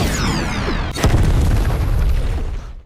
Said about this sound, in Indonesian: melemparkan anak panah yang memiliki ledakan sangat dahsyat